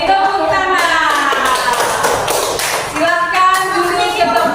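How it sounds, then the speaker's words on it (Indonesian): Children in a classroom clap their hands in a rapid, loud burst of overlapping claps after a group movement game, with young voices shouting and singing over it, briefly dipping before another round of clapping. "Oke, tepuk tangan."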